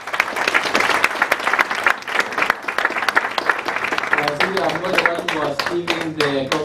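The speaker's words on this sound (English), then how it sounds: "A round of applause to her." An audience at the launch of Kenya's National Carbon Registry applauds the Cabinet Secretary with a loud, sustained wash of clapping. Music with a melodic line rises beneath it in the second half.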